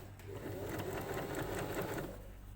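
A sewing machine running steadily while stitching a blind hem with a wide zigzag stitch, a continuous close whirring hum with a fast rhythmic needle chatter, heard alone.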